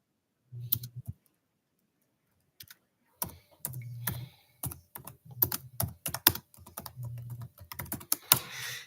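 Computer keyboard typing comes in clustered bursts of crisp, close key clicks with short pauses between them, over a faint low hum.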